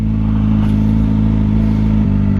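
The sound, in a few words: many cars passing on the road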